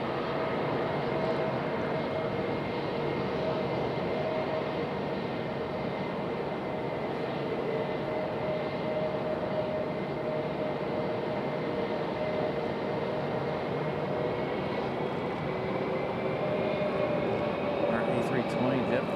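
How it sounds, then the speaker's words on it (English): A JetBlue Airbus A320 airliner moves on the ground at Raleigh-Durham airport. Its steady engine drone holds the whole time with faint whining tones over it, loud and close, and people talk over it. "Our A320 JetBlue getting to move on."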